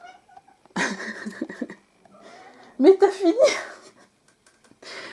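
A house cat lets out a couple of drawn-out, wailing meows, loud and close, with someone speaking French briefly between the cries.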